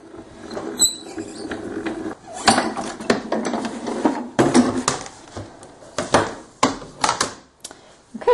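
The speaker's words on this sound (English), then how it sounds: "And then I'm going to put the cutting plate on top and then run it through the Grand Calibur." A Spellbinders Grand Calibur die-cutting machine cranking sticky-back canvas and a cutting plate through its rollers, giving a series of close, uneven clicking and ratcheting bursts with short pauses between turns.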